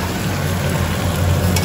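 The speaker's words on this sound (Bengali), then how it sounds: "ভোগ রান্না চলছে" Bhog offering food frying in a pan for a Janmashtami puja, a dense, steady close sizzle without pause.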